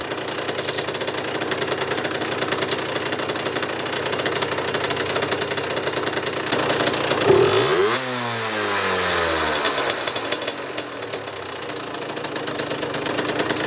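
A 50cc moped engine ticks over at a steady, slightly high idle after carburetor adjustment, a continuous close buzzing drone with a brief rising blip partway through before settling again.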